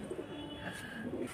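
A pigeon kept by a fancier in Bareilly coos softly in short, low repeated calls close by, with no talk over it.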